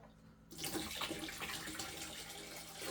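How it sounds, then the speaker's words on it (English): Water suddenly starts rushing and gurgling through an aquarium gravel siphon tube during a water change, a steady close splashing flow that keeps going without any voices. "I always give it a good little suck to get the water going"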